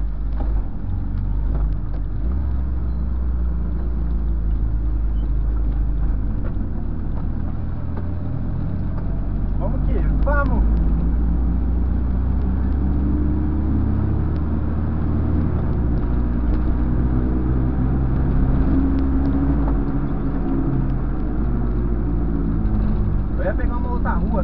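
A Volkswagen Voyage car engine revving and accelerating from inside the cabin, a steady low rumble that rises and swells mid-clip, with people talking over it throughout.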